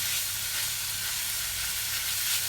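Meat browns in a hot pan for moussaka, a steady close sizzle hissing without a break and no voices over it.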